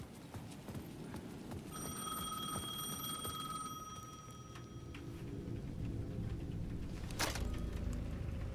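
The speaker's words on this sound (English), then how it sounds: "The payphone at the edge of the plaza was ringing again." A payphone rings in the video game Alan Wake 2, a steady electronic ring lasting a few seconds over a busy background of ambient noise and clopping.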